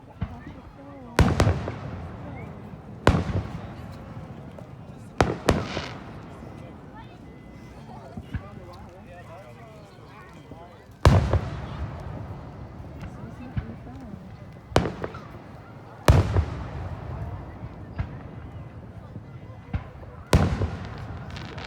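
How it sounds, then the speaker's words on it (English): Independence Day fireworks in Aston, Pennsylvania burst in sharp, loud booms every few seconds, each explosion trailing off into a crackling decay, while people chat nearby between the blasts. "I'm watching the fireworks."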